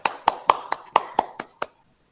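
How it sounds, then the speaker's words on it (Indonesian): Classroom applause for a student group, here a small cluster of hand claps in a loose, fairly even rhythm, about eight sharp strikes close by before it stops and goes quiet. "Tepuk tangan buat kelompok Inatsa."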